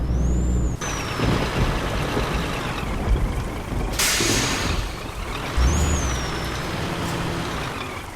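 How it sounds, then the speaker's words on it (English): A heavy truck engine in a video game rumbles close up while a thin, rising and falling turbo whistle comes and goes above it, with a sharp hiss of air midway. "You can probably hear a little bit of the whistling of the turbo already"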